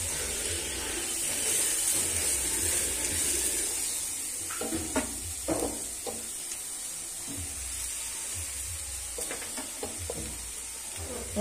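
Carrots fry in ghee in a pan over medium-high flame, with a steady sizzle and hiss, joined midway by several scraping, clinking stirs against the pan.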